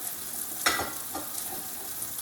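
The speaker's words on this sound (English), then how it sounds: "Keep stirring my onions." Onions frying in hot oil in a pan while being stirred, a soft steady sizzle with a brief louder scraping stir burst near the middle, close and quiet with no talk.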